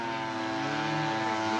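A radio-controlled scale model airplane taxis on a lake, its propeller engine droning steadily and loudly nearby with a constant buzzing whine and no voices.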